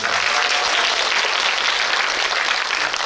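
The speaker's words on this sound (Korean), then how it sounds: "박수 한번 부탁드립니다" Steady, loud applause from a cinema audience at a Korean film screening Q&A, honoring the director; dense continuous clapping fills the whole stretch without a break.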